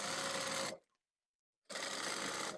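A sewing machine stitches a trouser seam with a fast, steady whirring hum, stops for about a second, then resumes at the same pace, close and clear.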